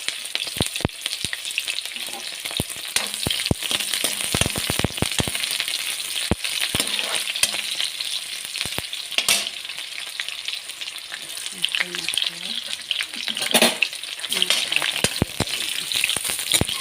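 Taro stolons fry in hot oil with a steady, dense sizzle throughout, broken by frequent sharp clicks and scrapes of a utensil stirring the pan close by.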